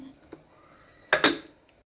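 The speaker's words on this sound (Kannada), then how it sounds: "ಈಗ ಮೊಸರು ಹಾಕಿ ಕಲಿಸ್ತಾ ಇದ್ದೀನಿ" A spoon stirs curd in a bowl while curd bajji is being made from tender kirkasali stems. After a faint tap, a pair of sharp metallic clinks rings out against the bowl in a quiet kitchen.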